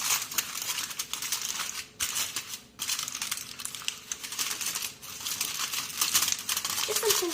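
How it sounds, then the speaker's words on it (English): Aluminium foil being crinkled and pressed around the edges of a flan pudding dish, a steady close-up rustling and crumpling with brief pauses. "you need to put on some foil just around the edges of here."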